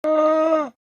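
One llama call: a short, sustained, moaning hum held evenly for most of a second, then cut off cleanly, heard alone and up close.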